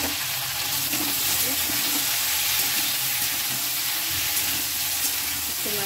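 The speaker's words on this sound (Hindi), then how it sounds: "यहाँ मेरा तेल गर्म हो चुका है, अब मैं इसमें भिंडी को डाल दूँगी।" Okra (bhindi) frying in hot oil in a kadhai makes a loud, continuous crackling sizzle, dense and even throughout, with occasional faint stirring clinks.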